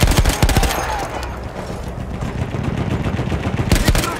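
Rapid bursts of close, loud gunfire as warning shots in the World War I shooter Battlefield 1. Quick volleys open, a rumbling lull follows, then more cracking shots come near the end.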